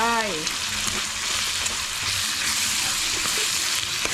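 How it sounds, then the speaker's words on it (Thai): Thai red curry paste is stir-fried in a pan, producing a close, continuous frying sizzle with soft stirring. "ผัดไปหอมหอม"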